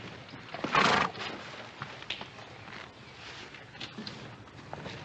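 A horse gives a short whinny early on, fairly distant and moderately loud, against quiet outdoor ambience with a few soft hoof and movement sounds.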